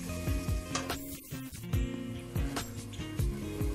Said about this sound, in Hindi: टमाटर स्लाइस किए हुए डाल देंगे और इसे हम तब तक पकाएंगे जब तक ये सॉफ्ट नहीं हो जाते